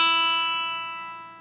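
A single note plucked on a regular six-string electric guitar rings out clean and sustained, decaying gradually over a second or so, close and alone.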